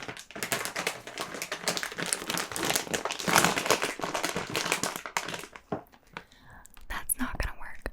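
Crinkly plastic snack bag of Trader Joe's everything but the bagel chips handled and tugged at close range, bursts of rustling and crackling with softer pauses near the end.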